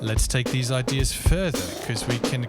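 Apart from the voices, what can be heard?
No everyday noises stand out.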